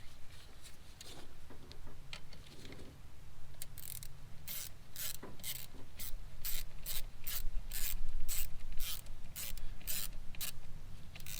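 A ratchet tightens the alternator nut onto its stud on a Buick Lucerne, first a few soft clicks, then a rapid, steady run of close, crisp ratcheting clicks over a low hum.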